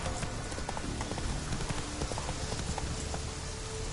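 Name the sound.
horse Roach galloping in the video game The Witcher 3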